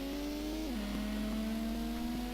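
A Toyota AE86 accelerating in the video game Gran Turismo, a steady synthetic engine drone that dips in pitch around a gear change, then holds and climbs gently, continuous and alone.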